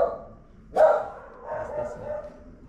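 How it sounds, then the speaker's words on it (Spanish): Dogs bark in a cemetery at night, one sharp bark up close followed by softer, more distant barking and yips, with quiet voices talking underneath. "Se alborotaron los perros."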